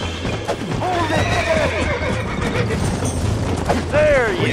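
A horse in the Red Dead Redemption video game gives several loud neighs and whinnies over the thud of hooves. Someone talks over the whole clip.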